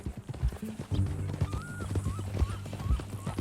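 Horse hooves clip-clop at a steady walking rhythm in Red Dead Redemption 2, close and clear, with a short melodic whinny-like tone repeating over the footfalls.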